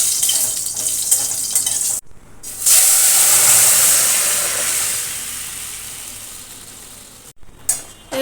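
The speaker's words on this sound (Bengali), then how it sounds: "ফোড়নটা ভাজা ভাজা করে নেব" Cumin seeds frying in a little mustard oil in a kadai, a loud sharp sizzle that bursts in after a brief silence and slowly fades, with a clink near the end and no talking.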